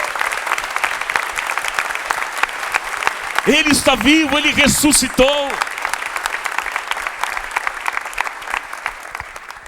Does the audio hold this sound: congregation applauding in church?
yes